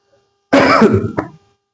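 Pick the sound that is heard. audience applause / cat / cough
cough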